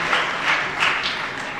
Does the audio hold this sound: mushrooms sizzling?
no